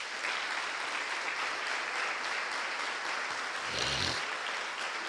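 A church congregation applauds steadily at a Portuguese-language sermon, the sustained clapping holding at an even level throughout with a slight swell near the end.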